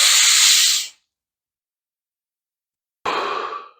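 Two full, deep inhalations through the mouth during a breathing exercise, each a loud, close, breathy rush lasting about a second and separated by silence.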